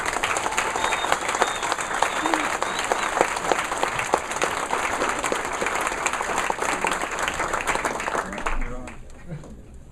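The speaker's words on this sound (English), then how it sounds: "Please join me in applauding Mr. Cahill, the rest of our professors, and most importantly, my classmates" Sustained audience applause at a university capstone awards presentation, a dense wash of many hands clapping steadily for about nine seconds before fading out, with faint murmured voices beneath.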